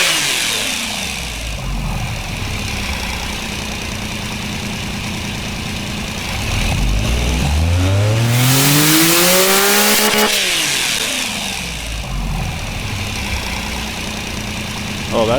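A small three-cylinder engine in a car company tycoon video game idles with a steady low hum, then revs up in a rising, whining sweep before dropping back to idle.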